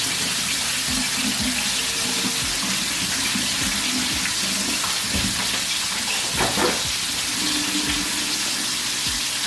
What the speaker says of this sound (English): let's go wash our hands because the bacon juice is not cute.